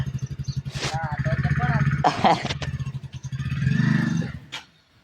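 A motorcycle engine putters with a rapid, pulsing beat, revving up and then cutting out near the end, while people talk over it.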